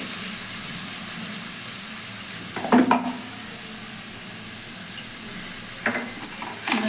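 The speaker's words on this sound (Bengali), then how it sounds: "ভালো করে মশলাটা কষিয়ে নেবো" Ground spice paste frying in a pan for a vegetarian potato curry (aloo dum) after cumin seeds, with a steady close sizzle and brief louder scraping bursts as it is stirred.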